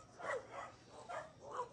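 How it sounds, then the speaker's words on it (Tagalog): Many dogs barking outdoors along a road, a few distant, faint barks and yips recurring in loose bursts. "Daming aso."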